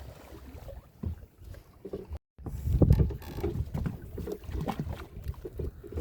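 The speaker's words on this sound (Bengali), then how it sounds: "এই আমাদের নৌকা ঘুরে যাচ্ছে" A small boat turning on the Vidya river, with a low rumbling wash of water and wind buffeting the microphone, steady and close with a brief dropout partway through.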